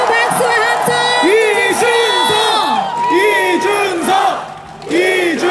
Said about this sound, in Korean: 여러분 그 박수와 함성